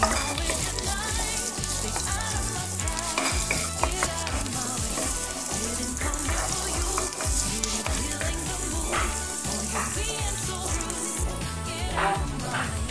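Onion sautéing in a pan until translucent, with a dense, loud, continuous sizzle and frequent stirring clatter running throughout, close up.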